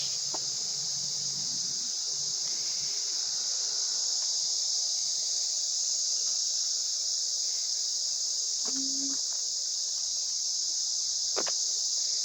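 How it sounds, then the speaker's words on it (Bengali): Crickets keep up a continuous shrill chirring drone, with a few faint rustles and clicks underneath. "আর চারপাশে ঝিঝি পোকার আওয়াজ"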